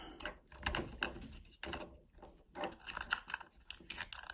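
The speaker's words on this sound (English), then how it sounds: "just demonstrate turning the key and showing you how the lever's moving" A key turns back and forth in a stripped-apart Squire 770 padlock with a clear front plate, giving close, irregular clicks and scraping as the levers move, in short separated bursts.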